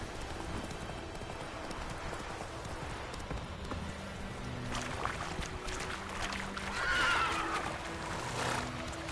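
A horse in The Witcher 3 video game clip-clopping along with steady hoofbeats, then giving a clear whinny near the end, moderately close over a quiet ambient background.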